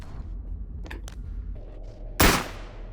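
A single loud gunshot in the VR game Bonelab, a sharp burst near the end after some quieter clicks and handling noises, close and alone.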